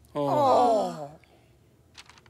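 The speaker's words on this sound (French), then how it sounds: "Hey, j'ai bâillé." A cartoon character's drawn-out, tired yawn, loud and close with a rising then falling voiced tone lasting about a second, followed by quiet.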